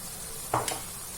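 Food with spices, including cinnamon, fries gently in a pan, giving a faint, steady sizzle broken by a brief scrape of stirring.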